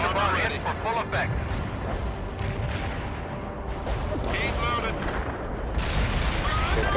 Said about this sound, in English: Cluster bomb ready for full effect.